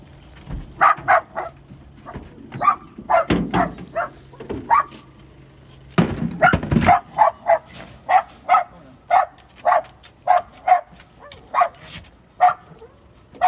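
Several dogs bark in repeated bursts, with a dense cluster early on followed by a steady run of evenly spaced barks, fairly close and loud, with occasional faint rustling between.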